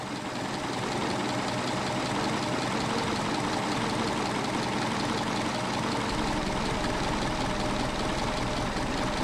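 A carburetted engine with a Solex carburettor idles steadily and unevenly, faltering as the mixture screw is adjusted, a close, continuous broadband rumble with no pauses and no talk.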